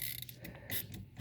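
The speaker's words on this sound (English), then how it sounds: "Just tightening this last screw." Small metallic ratcheting and clicking from a wrench tightening a screw on a John Deere 5055D tractor near the fuel tank, a few quick close clicks in a short burst.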